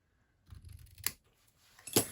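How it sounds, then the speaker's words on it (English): Scissors snip paper card stock twice, a soft cut near one second and a louder, crisp snip near the end, each close and alone against a quiet background. "snip that off there"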